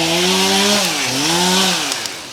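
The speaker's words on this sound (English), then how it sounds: "I'm just going to talk over the chainsaw because this is it." A chainsaw runs while clearing a wooded lot, loud and close with a steady engine drone that dips and revs back up briefly.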